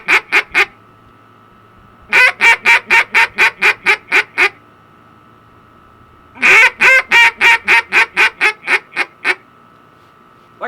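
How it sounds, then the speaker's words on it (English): A duck call blown in a greeting call, three loud close series of rapid, evenly spaced quacking notes, each run of about ten notes tapering off, separated by short silences. "greeting call, like I said, I usually hit that first when I have a group of ducks coming our way"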